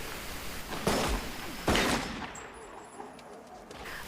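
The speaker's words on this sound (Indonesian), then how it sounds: "Norton memberikan kode-kode kepada sipir yang menjaga di atas untuk menembak Tommy" Gunshots fired by a prison guard at an inmate in a prison drama film: two sharp, loud blasts about a second apart, each leaving a brief echoing tail over a steady background hiss.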